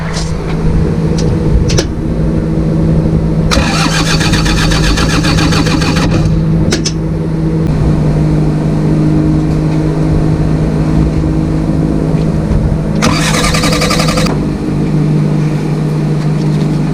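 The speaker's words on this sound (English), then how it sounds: "Alright, try to crank it again." A New Holland LS170 skid steer sits with its engine cranking in two loud bursts of starter whir, separated by a steady low hum, the machine close by with no one speaking.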